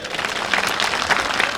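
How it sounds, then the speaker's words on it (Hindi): Audience applause for Dhirubhai at a campus gathering, a dense, steady patter of many hands clapping throughout without pause. "धीरू भाई साहब के लिए पहले ताली बजाइए।"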